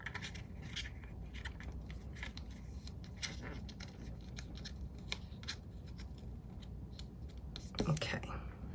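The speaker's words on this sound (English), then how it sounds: "just cut off the end, the extra there" Scissors snip off the spare end of a ribbon on a recipe memory box craft, a couple of quiet short cuts near the end of a soft, hushed stretch with faint rustling throughout.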